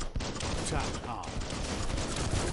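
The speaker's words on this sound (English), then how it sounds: "Bullets everywhere." Dense, continuous gunfire fills a shootout in the BioMutant video game, a loud, unbroken barrage of overlapping shots with a voice faintly underneath.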